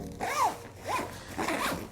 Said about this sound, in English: with the compression zipper, I can just kind of push this down a little bit